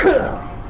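A single short, sharp sneeze bursts out close by, then quickly fades.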